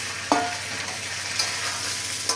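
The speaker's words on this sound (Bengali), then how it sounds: "পেঁয়াজ লাল লাল করে ভাজা হয়ে গেছে, আমি বরবটিটাকে ঢেলে দিলাম" Long beans (yardlong beans) sizzle steadily in a hot pan with fried onions, with a few sharp clinks of a spoon stirring them at intervals.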